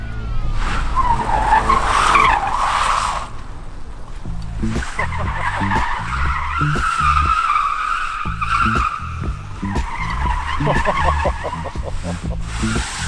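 An EV-converted 1970s Datsun 240Z restomod drifts in its drift mode, with loud sustained tire squeals and skidding, then more squealing after a brief lull over steady road and wind noise.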